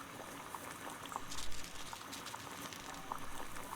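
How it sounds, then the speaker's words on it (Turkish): Tea bubbles in the Sherlock Holmes: The Devil's Daughter video game, heard as a soft, continuous boiling patter with small irregular pops, quiet and close, with no talking. "Çay kaynıyor ha."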